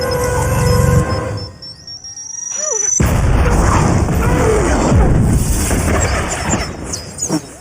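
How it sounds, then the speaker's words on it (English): A large explosion in a Hawkeye episode, a loud boom with crashing debris that swells and rumbles for several seconds, shown in a TV series. "Come on, that's a pretty big explosion."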